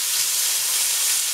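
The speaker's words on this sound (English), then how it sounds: "saute the carrots first because they are a little hard." Carrots sauteing in hot olive oil in a pan, a bright, even hiss of sizzling that holds steady and close throughout the short stretch with no talking.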